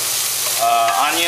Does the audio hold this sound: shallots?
yes